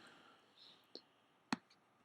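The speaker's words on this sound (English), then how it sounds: "I'm just clicking on the preview image and drawing a marquee around it" A computer mouse clicks twice, sharp and close, about half a second apart, over faint room hiss while working in scanner software.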